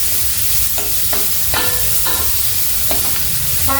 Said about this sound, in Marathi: कांदा घालायचा आहे कांदा हा चांगला शिजून द्यायचा आपल्याला